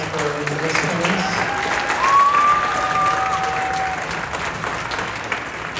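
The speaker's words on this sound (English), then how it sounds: "So, big round of applause for Miss Cummings." A high school wind symphony concert audience applauds steadily and loudly throughout, a broad sustained wash of clapping with a whistle or cheer rising over it near the middle.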